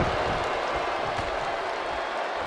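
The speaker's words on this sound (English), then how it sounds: "The sound of this crowd is deafening" Arena crowd in the WWE 2K22 wrestling game during a fatal four-way table match, a dense, steady roar of cheering and applause that holds loud throughout.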